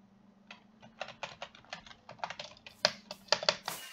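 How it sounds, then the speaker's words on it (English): A loud computer keyboard is typed on in quick, uneven clicks and clacks, close up, with a few sharper key strikes toward the end. "Sorry for my keyboard, it's very loud."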